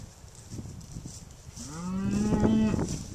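A cow lows softly to her newborn calf, a low, drawn-out moo rising near the end over quiet farmyard ambience, close by with no one speaking.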